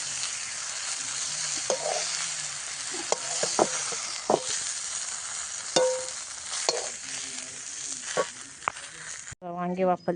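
Cauliflower sizzling in a hot pan as it is stirred, a steady frying hiss broken by scattered scraping clicks of the spoon, close and fairly loud, with a brief voice near the end.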